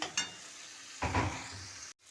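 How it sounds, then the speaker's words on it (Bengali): Spice paste for chicken curry sizzles in oil with a soft, steady fry, a couple of stirring knocks and a louder burst near the middle before it cuts off abruptly. "দেখো খুব সুন্দরভাবে কষানো হয়ে গেছে, তেলও বেরিয়ে গেছে"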